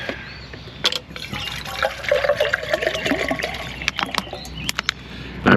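Water trickles and pours into a container at a tent campsite while making coffee, a soft continuous liquid stream with a few clunks and a louder splash near the end, close by.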